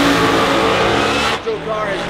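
Pro Mod drag race car launching at a Pro Mod vs Fuel Altered showdown, a loud, close, raw engine roar that cuts off sharply partway, then thins into a fading whine, with talk over it.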